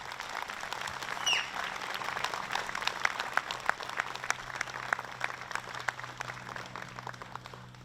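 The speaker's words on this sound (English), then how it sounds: "let's give a round of applause to Dr. Thomas Jacoby." An outdoor crowd at a Memorial Day ceremony in Acton applauds steadily, a dense patter of many hands clapping at moderate distance that holds for several seconds without talk.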